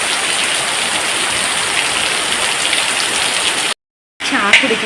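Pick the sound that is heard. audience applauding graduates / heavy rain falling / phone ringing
heavy rain falling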